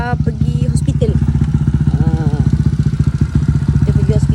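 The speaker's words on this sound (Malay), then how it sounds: "Jom kita ikut Mama pergi naik motor" A motorcycle engine runs steadily at close range with a fast, even thumping pulse, and a voice speaks briefly over it near the start.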